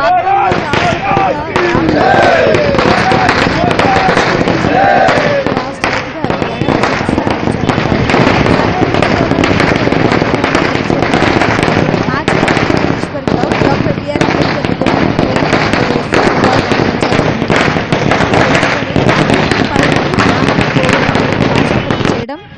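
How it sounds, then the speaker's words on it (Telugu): Firecrackers set off at a BJP celebration in Gummadidala, Sangareddy district: dense, loud, rapid bursts of crackling explosions running almost without pause, near and harsh, with voices mixed in. "టపాసులు కాలుస్తూ సంబరాలు చేసుకున్నారు."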